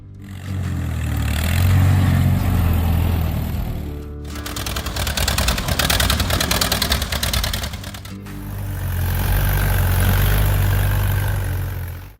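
Allis-Chalmers WD45 tractor engine idling with a steady low rumble and even mechanical clatter, loud and close; a sharper, busier chattering passage breaks in at the middle before the deep idle returns.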